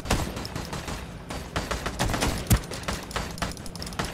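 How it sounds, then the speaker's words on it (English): Enemy gunfire in the video game Ring of Elysium: a steady barrage of rapid, overlapping shots with one sharp, louder crack near the middle, heavy and continuous throughout. "Who is shooting at me?"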